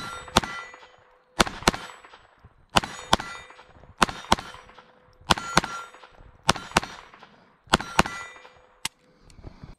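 Walther P22 pistol firing Remington Golden Bullets .22 rounds, eight sharp shots spaced about a second apart, each with a ringing metallic clang and short echo tail, loud and close with no talking.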